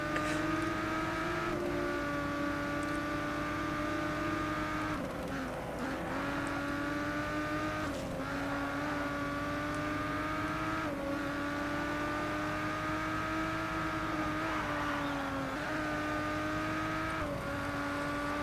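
A race car in the Grid 2 video game, a beat-up Nissan Skyline, with a loud, continuous engine whine that rises and falls through repeated gear shifts, and brief tire-noise bursts between revs.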